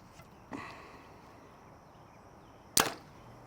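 An arrow is shot from a Hoyt compound bow, ending in one sharp, loud snap and thwack after a fainter earlier thud, against a quiet outdoor background with no talk.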